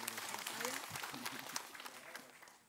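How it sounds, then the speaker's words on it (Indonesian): Audience applause welcoming a religious teacher, Ustadz Abimaki, at a children's Islamic program, heard as a fairly quiet, steady patter of clapping with some voices underneath. "Tepuk tangan buat Ustadz Abimaki."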